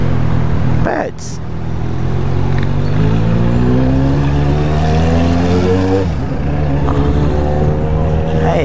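A motorcycle engine drones loudly and close, its pitch climbing steadily as it accelerates, dipping briefly and then rising again through city traffic, with some talking mixed in.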